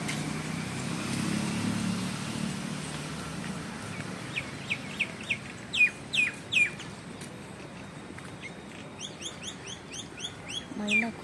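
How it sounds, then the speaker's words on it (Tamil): A myna calls near a calf outdoors, with sharp repeated chirps and whistled notes that come in bursts against a soft background hum and grow more frequent toward the end. "மைனா குருவி அந்த கண்ணுக்குட்டியை டிஸ்டர்ப் பண்ணுறதுக்காக அங்கே நிற்கிது"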